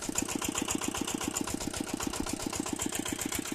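A small tractor engine chugs steadily at close range in a potato field, its rapid even putter holding a constant pace throughout with no voices.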